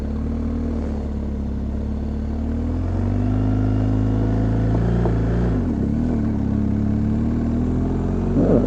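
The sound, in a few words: motorcycle engine running, rider working the clutch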